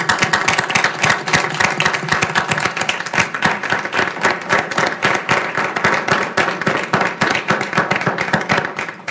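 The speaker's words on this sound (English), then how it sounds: "So I want to ask everyone here to join me in a round of applause" Audience at a school district governing board meeting applauds a departing board member, a steady dense patter of many hands clapping close by for about nine seconds without pause.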